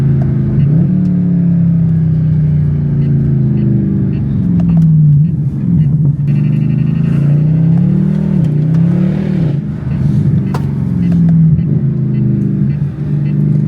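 A Mercedes C63 AMG accelerating hard, its engine rising and falling in repeated loud revs with a deep rumbling growl heard from inside the car, with some speech alongside.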